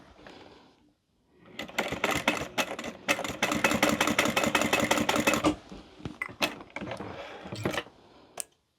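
A sewing machine stitches down a seam on a small fabric lip gloss holder, its steady rapid mechanical chatter running loud and close for several seconds, with short stop-start bursts around it.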